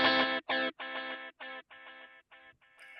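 Guitar through a Kemper Profiler delay with cross feedback set to zero, a chord followed by a train of evenly spaced echo repeats that fade steadily over three seconds, alone without talk.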